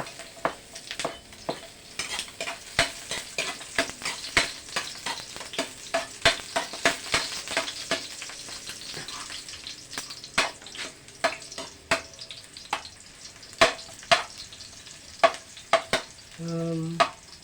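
Garlic sautéing in a pan for a Filipino pakbet of string beans, squash and eggplant, a steady close sizzle broken by frequent sharp scrapes and clacks of a utensil stirring, with no voices.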